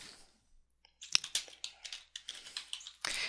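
Keys clattering as example text is typed on a computer keyboard, a close burst of quick, uneven keystrokes after a brief pause, with a heavier cluster at the end.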